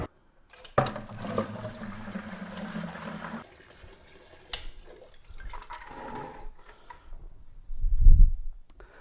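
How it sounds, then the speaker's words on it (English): Tap water pours into a 5-gallon bucket, a steady gushing fill for a few seconds that then stops, followed by softer sloshing, trickling and a low thump as the water settles. "So we filled our 5-gallon bucket up, about 3/4 of the way full of water."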